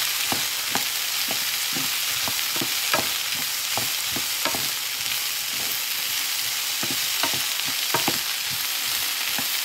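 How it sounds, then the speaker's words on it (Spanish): Chile, garlic and bay leaf fry in a pan for Honduran tamales, a constant loud sizzle punctuated by a quick, regular run of spatula scrapes and taps throughout. "Fríe bien."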